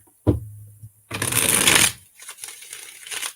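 A deck of cards is riffle-shuffled up close, a dense fluttering burst lasting about a second, followed by lighter handling clicks and rustles.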